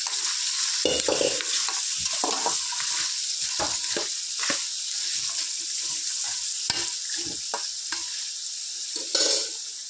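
Mutton pieces fry in a large amount of oil for gongura pickle, giving a loud, close sizzle broken by repeated scraping and clattering stirs against the pan, with no voices.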